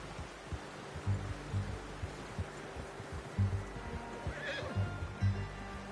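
A horse whinnies in Red Dead Redemption 2 over a quiet low hum, with soft rhythmic hoof thuds recurring throughout at close range.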